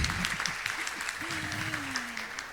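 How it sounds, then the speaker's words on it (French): An audience at an international toxicology congress applauds the actors of a staged scene, a moderate continuous patter of clapping with a voice heard faintly underneath. "Encore des applaudissements pour nos acteurs."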